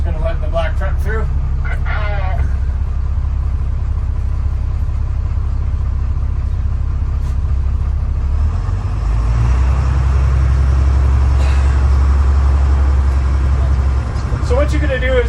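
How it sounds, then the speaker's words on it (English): A black truck drives past in a track-day queuing lane. A low engine rumble starts moderate, then swells into a loud, close, heavy drone through the second half. "Just going to let the black truck through."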